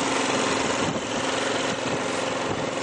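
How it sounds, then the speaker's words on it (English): A small snow blower engine running steadily in deep snow beside a house during a blizzard, a loud, close, high-pitched buzzing drone with constant vibration and no pauses. "There's a good old baby snow blower."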